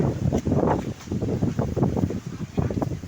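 Strong summer storm wind in Thailand lashing trees, a steady, loud, blustery rumble buffeting the microphone with gusty surges throughout and no clear talk.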